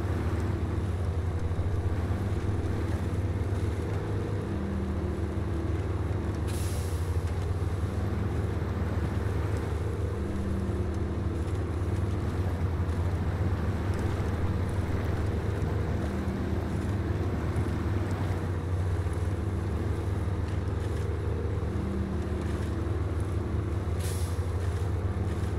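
DCB US-R900 "Big Bob" military truck driving in SnowRunner, a steady low engine drone with a constant rumbling hum, a couple of faint hissing bursts along the way, no voices.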